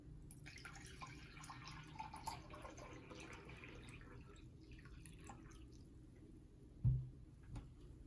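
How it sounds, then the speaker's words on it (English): Water from a measuring cup trickles and drips into an AeroGarden indoor planter, faint and quiet, with a soft splash and thump near the end. "I'm using a measuring cup so that I can tell you how much water I'm using"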